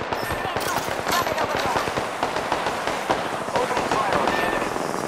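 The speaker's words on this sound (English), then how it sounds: "Opening fire on the enemy." Rapid bursts of automatic gunfire crackle nonstop in an Apex Legends battle royale match, dense overlapping shots close up and loud throughout, with voices briefly calling out over the shooting.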